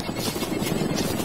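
Helicopter flying overhead in the survival game DayZ, a brief steady buzzing rotor hum at moderate volume, with no voices.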